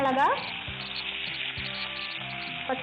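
Ginger-garlic paste dropped into hot ghee and butter for Tamil uup karadai, a steady close sizzle of frying throughout, with a brief voice near the start and end.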